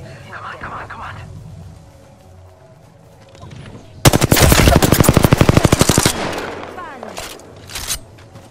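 Rapid automatic gunfire in the video game Apex Legends, a loud dense burst of shots lasting about two seconds, followed by scattered shots, with game sounds and a voice talking before and after.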